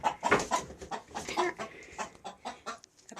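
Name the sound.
hen clucking in a chicken coop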